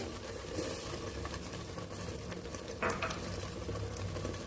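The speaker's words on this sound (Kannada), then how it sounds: "ಚೆನ್ನಾಗಿ ಮಿಕ್ಸ್ ಮಾಡಿ." Peas, potatoes and coriander powder stirred in a frying pan, with a steady soft sizzle and scraping of a spoon against the pan throughout, close and moderately loud.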